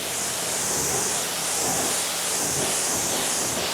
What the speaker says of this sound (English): Now we're gonna rinse it off.